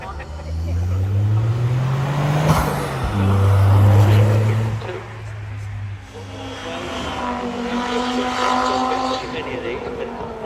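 A five-cylinder, four-wheel-drive race car with a full race engine making 250 to 300 horsepower climbs a hill at a rally, its loud, deep engine note rising and falling near and then fading, with a commentator talking over it.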